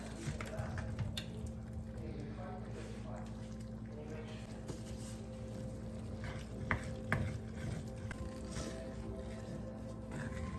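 Drained ground beef and ground sausage sizzle in a pot over medium heat, a soft, steady frying hiss with occasional stirring scrapes, fairly quiet throughout.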